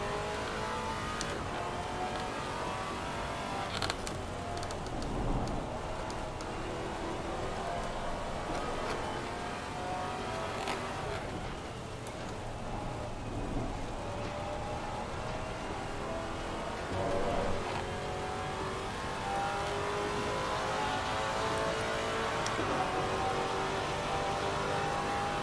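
Maserati race car in a sim racing game at Watkins Glen, its engine droning steadily throughout with rising and falling revs over constant road and wind noise.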